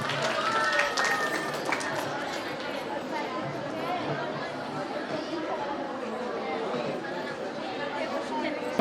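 A crowd of people chatters steadily at a school anniversary function, a dense wash of overlapping voices filling the room throughout with no single speaker standing out.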